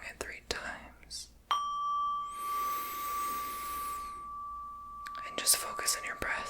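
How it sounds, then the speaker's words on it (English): A sound bowl is struck, first a muffled tap, then one long pure ringing tone that sustains for several seconds before soft rustling and whispery noises return. "I'm going to go in with this sound bowl and just gong it 3 times"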